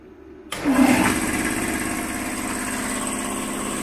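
An air compressor powered by a Vevor 5500W inverter generator, on top of a 1.7 kW base load, kicks on abruptly and keeps running with a steady, loud mechanical drone and a constant hum, with no voices.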